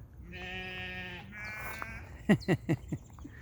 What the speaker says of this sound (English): Look at all these sheep.